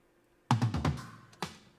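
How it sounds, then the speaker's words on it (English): Raw tom drums, soloed without triggers or samples in a rock mix. A quick descending run of several tom hits is followed by one more hit, each with a boomy decay and no other sounds. "The original tom sound here, I'll show you. That's without the triggers."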